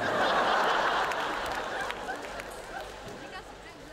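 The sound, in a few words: audience applause at a stand-up comedy show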